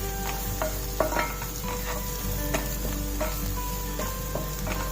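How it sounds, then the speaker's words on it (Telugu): Onions fry in oil in a pan over high flame with a little salt, a loud steady sizzle broken by repeated utensil scrapes and light clinks against the pan. "ఉల్లిపాయలు మంచిగా వేగుతున్నాయి కదా"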